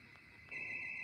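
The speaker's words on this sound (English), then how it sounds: "Alarm's going off outside somewhere, not on the street." An alarm rings somewhere outside, away from the street, as a steady high electronic tone that grows louder partway through. It sounds muffled and distant, with no talking.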